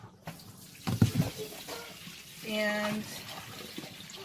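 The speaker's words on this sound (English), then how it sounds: "it just pours all the water into the bin." A portable compact mini twin tub washing machine drains water into a bin, a steady splashing gush partly under a person talking, with a brief humming tone in the middle.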